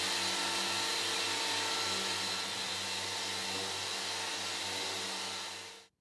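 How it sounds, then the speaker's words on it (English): An orbital disc sander grinds down hardened epoxy in a woodworking shop with a steady, loud motor whir and humming drone, then cuts off abruptly at the end. "The epoxy is easy to sand and can be removed quickly with an average orbital disc sander."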